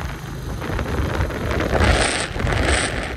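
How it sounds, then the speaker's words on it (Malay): Strong wind roars and buffets against the microphone in broad gusts on a mountain road at Ma Pi Leng pass, Meo Vac, Vietnam, rising and falling over a low rumble, with no voices. "Angin kuat, sejuk."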